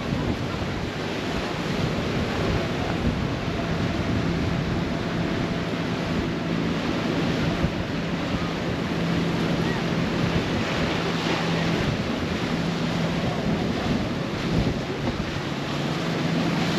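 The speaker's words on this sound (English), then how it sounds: "See the waves making this boat here rock quite a bit." Waves slosh against a water taxi on the Intracoastal Waterway in Fort Lauderdale amid steady wind rumble, a constant broad wash of water noise outdoors with no clear voices.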